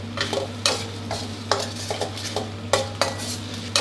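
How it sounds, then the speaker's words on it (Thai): Thai red curry paste stir-fried in a pan for catfish with chili-ginger paste, with repeated loud scrapes and clanks of a spatula against the pan over a steady sizzle, close up. "เราผัดให้พริกแกงเขา แตกมันแล้วก็ออกกลิ่นหอมดีก่อนนะครับ"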